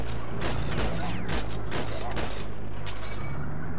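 Rapid bursts of gunfire in the shooter game Heroes & Generals crack out in clustered volleys, loud and close, with a player's voice talking over the shots.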